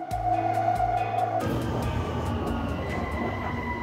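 A Bangkok BTS Skytrain runs along its line, a steady rumble and rolling wheel noise with a sharp shift in pitch partway through, close and continuous without talk.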